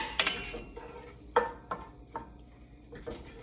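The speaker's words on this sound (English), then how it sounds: "So I'll go ahead and add my andouille sausage into the pan." Andouille sausage going into a pan to saute, heard as a handful of sharp clinks and knocks of utensil against pan over a faint, low sizzle, close by with no talking.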